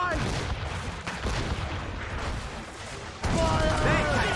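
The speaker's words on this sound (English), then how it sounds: "Enemies firing!" Ship cannon fire during a naval battle in Assassin's Creed Rogue, with dense rumbling booms layered over loud ocean and battle noise, and a fresh blast hitting hard near the end.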